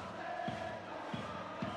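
A large baseball stadium crowd in the game Power Pros 2022 roars steadily from a distance, a continuous wash of cheering with faint drum-like thumps rising and falling.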